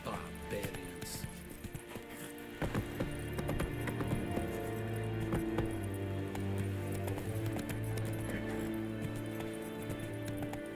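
Horse hooves galloping in The Witcher 3, rapid clip-clop beats building after a quieter start and continuing steadily with game music and ambience underneath.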